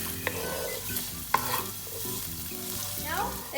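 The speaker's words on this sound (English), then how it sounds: "add the crushed ginger garlic and chopped green chilli. Okay. And then saute it" Crushed ginger, garlic and chopped green chilli sizzle in a pan for vegetable fried rice while a spoon stirs and scrapes, with a couple of sharp clinks of utensil on metal over a steady frying hiss and some low background hum.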